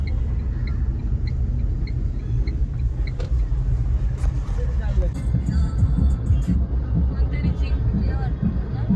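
Auto rickshaw ride through town traffic, with a steady engine rumble and road noise filling the whole stretch and occasional clatter and faint horn beeps in the background.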